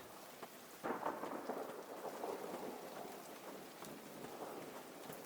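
Rain and thunder ambience from the video game Sodden: a steady wash of rain with a rolling rumble of thunder that swells about a second in and then slowly fades, with no voices.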